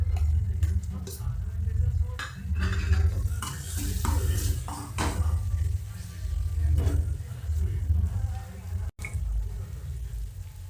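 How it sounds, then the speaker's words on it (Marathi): Onion-coconut masala paste for a spicy black horse gram amti fries in a pan under steady stirring, a continuous close scraping and sizzling that runs the whole time, broken by one brief gap near the end. "हे कांदा खोबऱ्याचं वाटण आहे ते मी टाकते"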